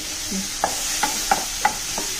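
Fried bitter gourd is stirred into masala in a cooking pan, with five evenly spaced spatula scrapes rising over a steady, soft sizzle.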